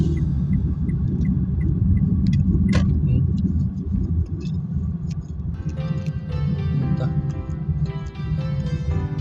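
Many trucks rumble at the Santa Clara shipping port, a dense, steady low engine drone with occasional metallic clicks and rattles and faint distant voices.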